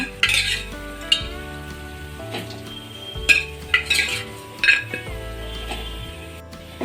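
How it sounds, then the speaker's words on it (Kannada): Pre-cooked mutton is stir-fried with masala paste in a pan for a mutton pepper fry, with repeated scraping and clinking of a metal spoon against the pan over a low background sizzle, heard close up with no talk. "ಈಗ ಬೇಯಿಸಿಟ್ಟುಕೊಂಡಿರೋಂಥ ಮಟನ್ನೆಲ್ಲ ಹಾಕಿದ್ದೀನಿ ಇದನ್ನು ಚೆನ್ನಾಗಿ ಹುರ್ಕೋಬೇಕು"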